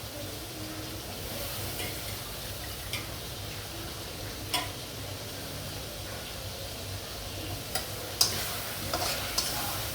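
Onion paste sautéing for a snakehead fish curry, giving a steady low sizzle with occasional spoon taps and scrapes against the pan over ten seconds, close by and moderately quiet, with no talking.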